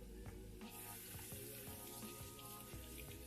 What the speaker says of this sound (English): We're going to rinse them just like we did our lentils